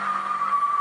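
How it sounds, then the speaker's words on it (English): A car speeding at around 100 mph on the A127 road near Southend, heard as a brief, steady high whine and roar with no talk. "a car is spotted speeding at around 100 miles an hour"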